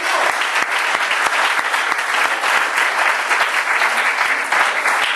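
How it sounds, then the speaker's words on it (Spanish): Church congregation applauds vigorously during a Spanish-language sermon, a loud, dense burst of continuous clapping filling the whole stretch with a few sharper individual claps standing out. "Ofrezca el aplauso al Señor, hermanos."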